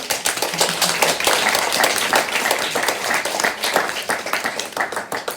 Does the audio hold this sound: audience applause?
yes